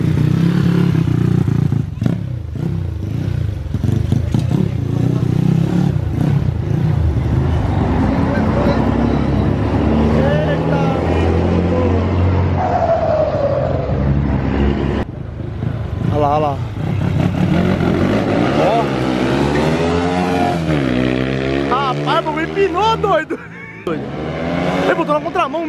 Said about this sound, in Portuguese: É bom que tá maciando o motor já